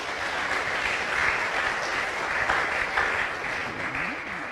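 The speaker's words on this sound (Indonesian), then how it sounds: "Kita tepuk tangan dulu saudara-saudara." A congregation applauds in a Christian gathering, with dense continuous clapping from many hands filling the room at moderate loudness and no speech over it.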